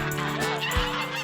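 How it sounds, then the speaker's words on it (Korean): Geese fighting let out loud, close, harsh honks, overlapping nasal calls with a sharp thump partway through, no talking. "잠시의 정적을 깨고 거위들이 다시 싸움을 시작하고 있다"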